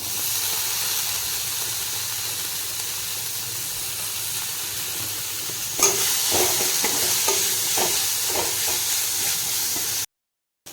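Tomato added to ginger, garlic and green chilli paste frying in oil for a bamboo shoot karadi curry hisses steadily, then louder clatters of stirring come in, ending in a short silence.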